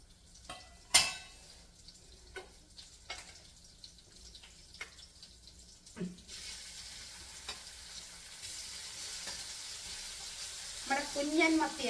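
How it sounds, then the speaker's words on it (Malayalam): Steady sizzling of sardines frying in hot oil in a pan, with faint clinks and stirring scrapes and occasional voices nearby. "അപ്പം ഇനി മത്തിയും കൂടെ വറുത്തേക്കാം"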